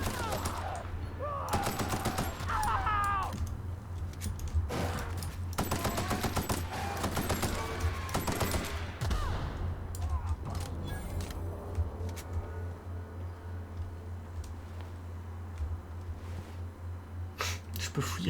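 Weapon fire in the video game The Outer Worlds comes in rapid, dense bursts of shots early on, then thins to scattered, sharper single cracks over a low background hum.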